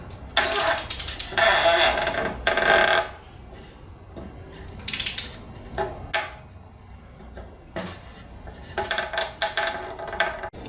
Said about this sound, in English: giving it a few smacks with the impact driver going the other way